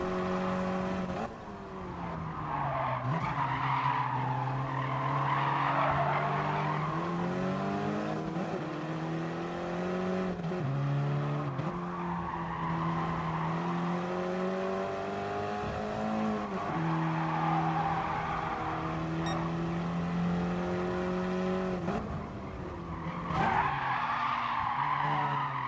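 KTM X-Bow race cars in a sim racing game scream through a short sprint race, their engines rising and falling in pitch with repeated tire squeals and skids, loud and continuous, with no talking.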